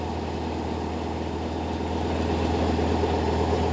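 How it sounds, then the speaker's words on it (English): An old boat engine idles steadily on a canal, a continuous low throbbing hum holding even and close throughout with no voices over it. "And a beautiful sounding old engine."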